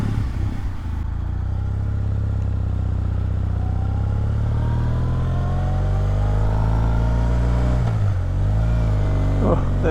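A motorcycle engine with synchronized carburetors or throttle bodies hums steadily and close by while riding, a low continuous drone with wind noise, rising slightly near the end.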